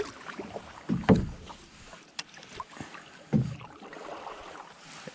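Paddle strokes pull through lake water beside a Mossie Cadet canoe, two distinct splashing swooshes spaced a couple of seconds apart over steady wind and water noise.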